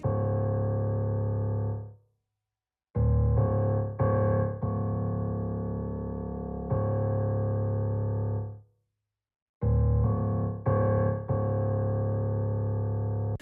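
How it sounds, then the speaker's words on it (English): Low, dark piano notes sustain over a trap loop with deep bass, playing in two long phrases separated by a short silence, with rhythmic hits punctuating the steady, loud texture. "So I added this low piano, and that sounds like this."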